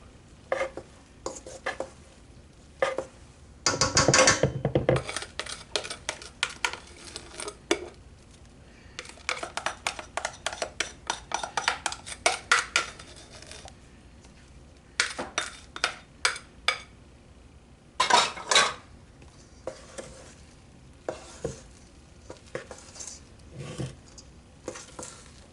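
Pancake batter for a banana upside-down pancake is folded in a bowl, giving soft scraping and clinking of a utensil against the bowl in irregular bursts with short pauses, close up and without talking.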